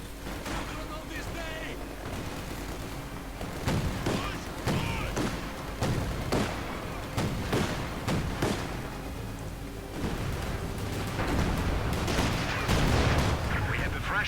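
Gunfire and artillery from the video game Company of Heroes 2 form a dense battle mix of repeated shots and heavy thuds over a constant rumble, with game voice lines heard alongside.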